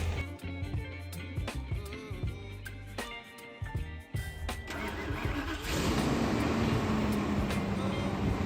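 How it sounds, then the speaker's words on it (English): A truck engine turns over and catches after a few seconds of clunks and handling noise, then settles into a loud, steady running rumble close by, outdoors in a snowy, salted lot. "the truck started up real nice"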